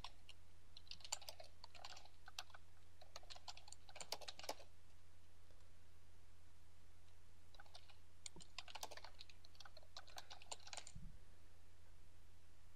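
Keys clatter on a computer keyboard as a page title is typed, in quick irregular bursts with short pauses, faint and close over a low steady hum.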